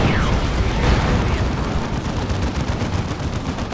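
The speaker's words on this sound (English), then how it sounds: "The Lemur Ross is sustaining quite a bit of fire now" Heavy weapons fire on a Leman Russ tank in the strategy game Dawn of War 2 Elite Mod, with a Baneblade nearby: loud, continuous rumbling blasts and explosions merge into a dense, booming roar without pause.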